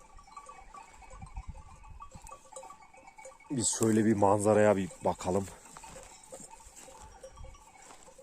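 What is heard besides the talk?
sheep on a hillside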